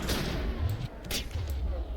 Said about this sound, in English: That was quite the explosion there.